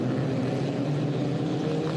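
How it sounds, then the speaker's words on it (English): A continuous, droning Formula 4 racing car engine roar at Mid-Ohio holds steady and loud, with a buzzing, motor-like tone and no talking. "Up go the revs. Now they go into full flight."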